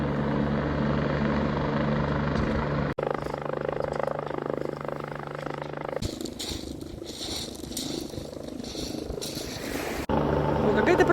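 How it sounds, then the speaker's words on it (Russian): A fire-service helicopter flies overhead near Étretat in Normandy, a steady droning rotor and engine roar that stays loud throughout, with crowd and wind noise mixed in. "Это пожарный вертолет, первую помощь оказывают"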